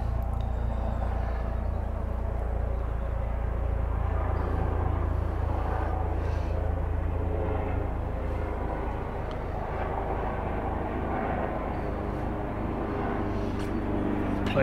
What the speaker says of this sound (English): Planes going across above.